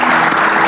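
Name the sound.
applause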